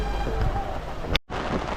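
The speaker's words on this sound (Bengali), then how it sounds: "বৃষ্টির মধ্যে দিয়ে যাত্রা শুরু হচ্ছে" Rain falls steadily at the Diamond Harbour ferry jetty, a close, even hiss that briefly cuts out before resuming.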